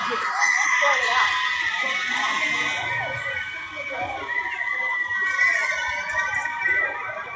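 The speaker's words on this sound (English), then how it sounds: "So they came out cheering." Outside a courthouse on verdict day, a crowd cheers and yells in a sustained, slightly distant roar of high-pitched shouts and whoops, with voices talking over it.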